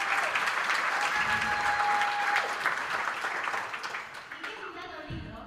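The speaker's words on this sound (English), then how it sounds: "yes, applaud. Yes, please." Audience applause at a summit talk on gender violence, loud sustained clapping from a crowd that tapers off toward the end as a voice briefly comes in.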